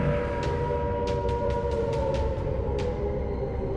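Air raid siren wailing over a capital city under bombing, a sustained droning tone with a steady pitch, loud and continuous, with faint sharp clicks scattered over it and no voices.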